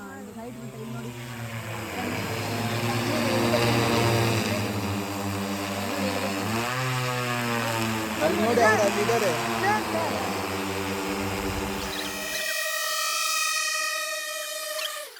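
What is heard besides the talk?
agricultural drone flying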